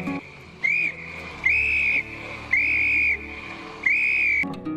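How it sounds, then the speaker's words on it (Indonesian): A whistle blown by Rose in the Titanic film sounds four loud, sustained shrill blasts, each lasting about half a second to a second, separated by short gaps over a low dark background. "Kemudian Rose memanggil Scotchy dengan sebuah peluit"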